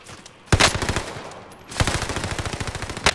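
Rapid automatic gunfire in a video game comes in two bursts of evenly spaced shots after a quiet start, with a final loud shot at the end, close and loud, with no talking.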